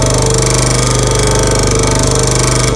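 A Sears Craftsman 23-inch scroll saw running with noticeable vibration, a loud, fast, steady mechanical chatter throughout with no talking.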